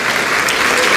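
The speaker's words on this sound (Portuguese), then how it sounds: "Vamos dar uma salva de palmas para Jesus." Steady, dense applause from a church congregation fills the whole moment, loud and continuous with no break.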